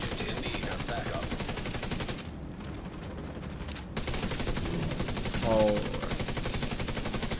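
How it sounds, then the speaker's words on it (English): Rapid automatic turret fire from a war tank in The Division 2 game rattles on continuously, breaking off for a moment and then resuming in loud sustained bursts, with a brief spoken word over the gunfire. "And I'll get my turret on the war tank."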